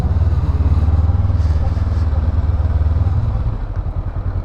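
A 2024 Honda SCL500 motorcycle rides in second gear with a steady, loud, close engine drone, the note easing slightly toward the end.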